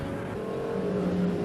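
Race cars from a touring session circle the Road America track during the lunch hour, a steady distant engine drone with a sustained tonal whine, heard faintly and alone.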